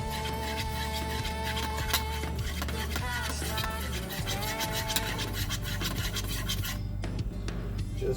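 A cornstarch and soy sauce mixture is whisked briskly in a bowl, making a quick, scratchy, rhythmic scraping over steady tonal background music.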